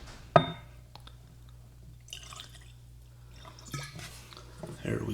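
Eagle Rare 10-year bourbon poured from a previously opened bottle into a glass, a sharp cork pop or clink followed by quiet trickling and faint liquid sounds at close range.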